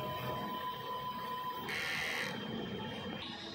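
A DTF (direct-to-film) transfer printer runs in a print shop with a continuous mechanical hum and whir, plus a brief brighter whine from the moving print head partway through, steady and close with no voices.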